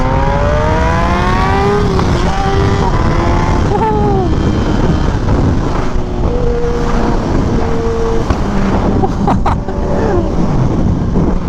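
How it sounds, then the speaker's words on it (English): A Kawasaki ZX6R motorcycle exhaust, loud and close, revving through rising and falling engine tones with shifts. Short sharp pops and crackles come near the end. "The pops and crackles on this bike."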